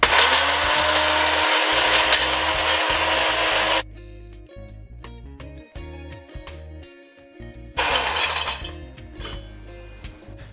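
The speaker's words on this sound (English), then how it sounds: "I'm gonna take a whole nutmeg and put it in the spice grinder" Electric spice grinder grinds a whole nutmeg, a loud harsh whirring buzz that runs for about four seconds, stops, then starts again briefly, with kitchen handling noises in the pause.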